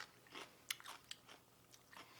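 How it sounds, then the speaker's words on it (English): Crisp crunching bites into chilled pickled watermelon rind, several quick snaps and chews close to the mic, quiet and with no talking. "Can you hear that crunch?"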